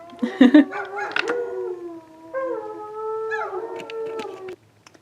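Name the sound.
dog howling outside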